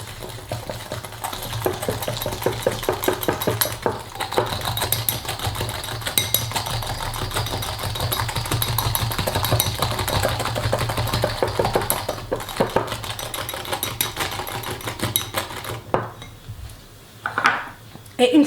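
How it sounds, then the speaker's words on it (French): Egg yolks and sugar whisked in a small bowl, a dense, continuous clatter of a whisk against the bowl's sides, close and steady, easing off near the end. "on vient mettre 2 jaunes d'œufs, 30 g de sucre. On commence à mélanger."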